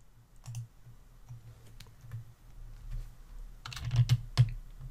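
Computer keyboard typing while working in an Excel spreadsheet, with soft, irregular key taps and clicks that build into a quicker cluster of louder keystrokes near the end.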